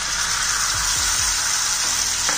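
Coarsely ground onions frying and browning in a pan for stuffed bitter gourd, giving a loud, continuous sizzle with a few soft stirring scrapes.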